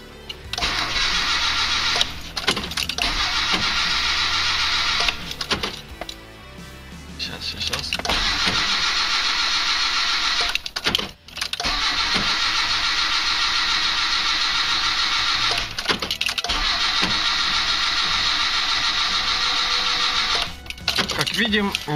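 A car running on second-generation LPG gas equipment cranks in winter without starting: long, loud, droning starter bursts with short pauses between attempts, and a voice talks at times.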